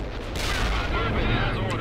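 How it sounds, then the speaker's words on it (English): Heavy artillery fire in the real-time strategy game World in Conflict, a dense, continuous rumble of distant blasts and battle noise that stays steady and loud for the whole short stretch, with game voices mixed in. "Heavy artillery, requesting orders. Get them fire support now. Firing at coordinates."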